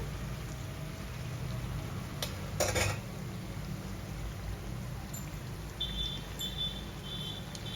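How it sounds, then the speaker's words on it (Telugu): Corn burelu, sweet dumplings, frying in a pan with a steady, noisy crackle throughout, broken by a few brief utensil clinks near the middle and later. "చూడండి ఎంత మంచిగా కాలుతున్నాయో బూరెలు"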